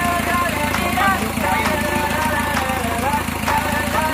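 Isuzu Trooper diesel with a 4JX1 engine idling steadily up close, a continuous mid-pitched drone with faint periodic ticks, after air bubbles were bled from the fuel system.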